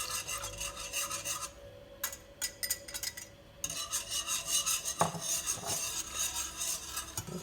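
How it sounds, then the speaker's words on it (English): A whisk scrapes and rasps against a pot as slurry is mixed into heating milk for custard, a faint, continuous scratchy stirring with brief pauses and small clinks. "I've got the whisk here and the slurry, so just start mixing it in"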